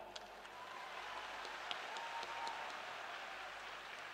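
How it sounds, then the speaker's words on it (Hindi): A large audience claps softly and steadily at a crowded religious gathering in a packed pandal, a faint, even patter of many hands with no strong peaks, heard from a distance. "अब आपकी ताली इतनी धीरे बज रही है कि आनंद नहीं आ रहा है।"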